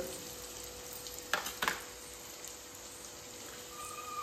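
Agri Koli masala and turmeric sizzle and fry gently in a pan for crab curry, a soft steady crackle broken by a couple of louder scraping stirs.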